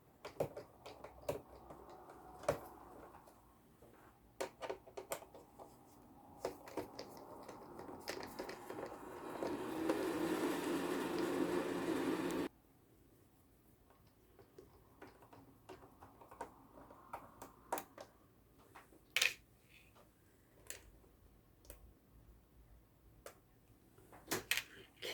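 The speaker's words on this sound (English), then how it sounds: "Otherwise, you just got to keep unscrewing them" Small metal screws on an HP laptop being worked loose with a magnetic screwdriver, giving scattered light ticks and clicks close by, with a longer scraping, rustling stretch midway.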